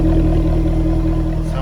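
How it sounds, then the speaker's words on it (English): A 2015 Jaguar F-Type convertible with active exhaust idles close by, a steady, loud, deep rumbling burble with no talking. "There's the exhaust."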